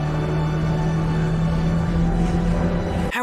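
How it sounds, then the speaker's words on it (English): Experimental aircraft engine in the film Top Gun: Maverick, a loud sustained screaming drone with a steady low hum and dense tonal layers, continuous until an abrupt cutoff near the end. "you can hear the engine screaming in the background"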